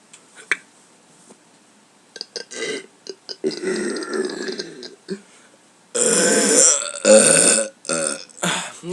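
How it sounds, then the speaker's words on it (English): A person lets out several loud, close burps: short grunting bursts first, then a long, drawn-out belch near the end, broken by brief silences. "hope you liked my burping video"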